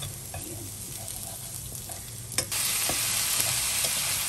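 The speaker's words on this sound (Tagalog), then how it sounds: "ginisa ko na yung prawn curry, prawn, hipon" Prawn curry with garlic, onion and chili sautéing in a pan, a steady frying sizzle with scraping stirs that swells louder and brighter midway as the spatula works the mix.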